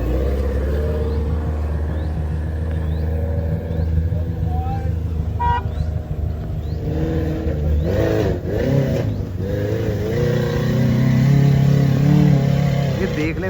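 A heavily modified Suzuki Jimny strains its engine while climbing an off-road obstacle, with a rough, uneven revving rumble that rises and dips as the vehicle struggles and nearly stalls, under excited talk from people nearby.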